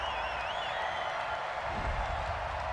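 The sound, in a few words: football stadium crowd reacting angrily to a penalty flag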